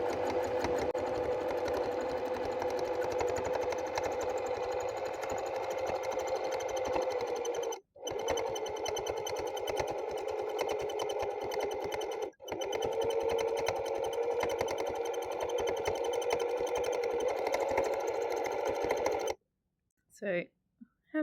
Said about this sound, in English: how fast I'm moving my fabric and how fast my needle is moving